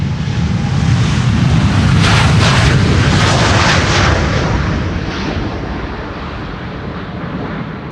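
KLM airliner departing Amsterdam Schiphol's Polderbaan runway 36L for San Diego on a windy day, a loud, continuous jet engine roar with rumbling, gusty texture that peaks early and slowly eases, no voices.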